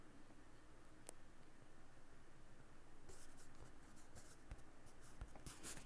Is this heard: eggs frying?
no